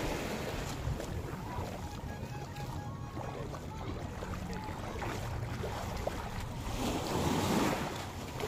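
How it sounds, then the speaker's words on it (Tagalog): Ocean surf rolls and washes near a boat under steady wind buffeting on the microphone, with a larger wave swelling louder toward the end. "Malaking alon."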